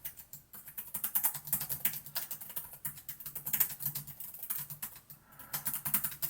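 Fast typing on an Asus Zenbook 14 OLED laptop keyboard with soft, mushy membrane-like keys, a quiet continuous patter of muted key presses with occasional brief pauses, close up and alone.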